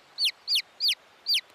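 A cartoon chicken gives four evenly spaced, bright chirping clucks, crisp and close against a quiet background.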